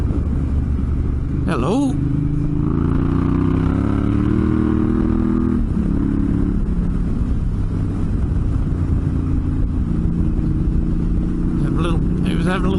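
Motorcycle engine rumbling steadily along a desert road, a continuous loud drone with some rising revs, as a voice speaks briefly over it.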